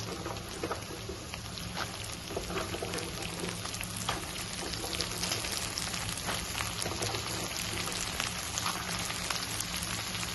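Broad beans and onion frying in a pan, a steady dense sizzle and crackle like light rain, continuous and even throughout, close up with no talking.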